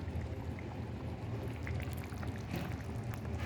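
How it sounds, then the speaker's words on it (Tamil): Fish curry in a clay pot keeps bubbling after the stove is switched off, a steady close simmer of soft popping and gurgling with scattered brighter pops, no voices. "ஆஃப் பண்ணிட்ட அப்புறமா குழம்பு எப்படி கொதிச்சிட்டே இருக்குன்னு பாருங்கள்."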